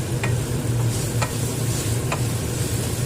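Ginger garlic paste and salt are stirred in a frying pan with a steady, close sizzle, and a few light spatula scrapes sound at regular intervals.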